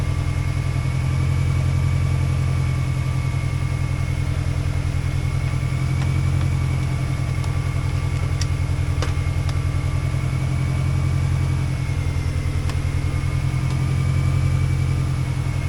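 A 2003 Mini Cooper engine idles steadily after sitting unused, a loud, even low rumble with constant pulsing and faint clicks, alone without talk.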